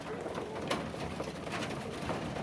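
Pigeons coo softly and steadily in a cold, snowy evening setting at a feeding spot, a low continuous murmur of several birds close by with no talk over it.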